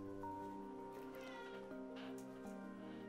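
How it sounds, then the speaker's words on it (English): A cat meows loudly and drawn-out, a single long wavering yowl close to the microphone. "If you hear meowing in the background"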